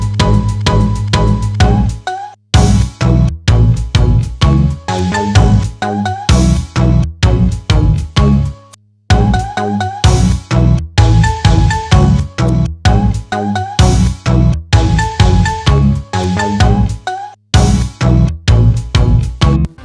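Electro pop track built from flipped city pop samples, with harmony and melody layered over synth basses: a loud, full groove with punchy drums and repeating chord stabs, broken by a couple of short pauses, purely instrumental.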